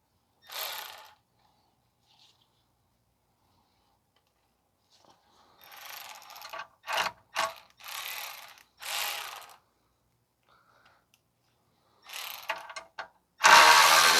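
Ratchet loosening a bolt on the exhaust heat shield of a 2010 Subaru Outback 3.6: several separate bursts of fast clicking pawl ratcheting, fairly close, with quiet gaps between them and a louder final burst.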